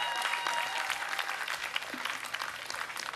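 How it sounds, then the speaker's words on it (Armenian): Steady applause from a television studio audience for a dance troupe, many hands clapping in a dense, continuous patter that stays loud throughout. "Եկեք ծափարենք իրոք ընտրյալներին։"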